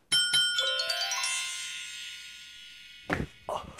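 A two-tone electronic doorbell chimes close by and rings out for a few seconds, followed by faint rustling noises.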